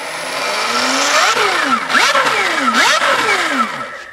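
An Alta Redshift MXR electric motorcycle revs up close by, its motor whine rising and falling in several sharp sweeps over a few seconds.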